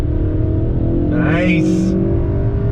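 A 2021 Kia K5 GT sport sedan accelerates hard from a launch, its engine note climbing steadily under an excited voice, with a brief squeal near the middle.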